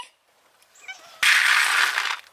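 A cat meows at feeding time outdoors in cold weather, one short, high meow near the start, then a loud, sustained rustling clatter that could be food pouring into a bowl.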